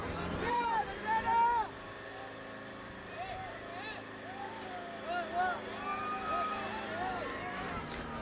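A tractor hauls a loaded trailer in a 90-second village pulling contest, its engine a steady, moderately loud drone throughout while voices talk and call over it.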